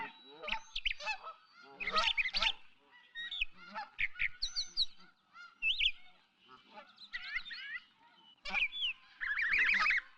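Farm-raised geese honk in repeated bursts of harsh, nasal calls, several birds overlapping in quick irregular clusters with short pauses between, moderately close but fairly quiet overall.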